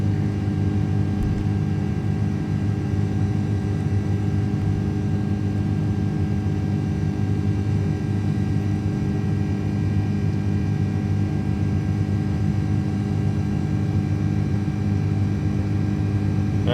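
KLM Airbus A330 engines in a flight simulator hold a steady, loud low rumble with a tonal whine during the climb after takeoff, unbroken for the whole stretch.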